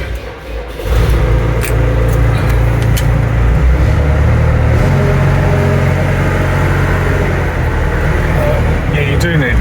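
A Merlo telehandler's diesel engine cranks and catches, then settles into a loud, steady low idle close by, with someone talking over the running engine.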